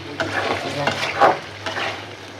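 Dried loitta fish (shutki) being stir-fried as bhuna with potato and garlic in a pan, a steady sizzle broken by several scraping stirs of the spatula, close and clear with no talking.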